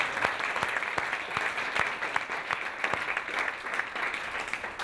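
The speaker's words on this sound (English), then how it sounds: "A round of applause." An audience at a talk on innovation in Ireland claps steadily, a dense, even round of applause that holds at a constant level throughout, with no voices above it.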